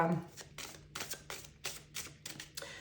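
A deck of tarot-style cards being shuffled by hand, a series of soft riffling bursts in a steady rhythm, close and fairly quiet.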